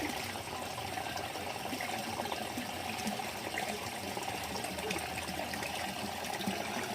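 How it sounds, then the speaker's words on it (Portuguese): Water pours steadily from an aquaponics grow bed into the fish tank below, a constant faint rushing and splashing with no pauses. "Vamos ver a descarga da cama de cultivo."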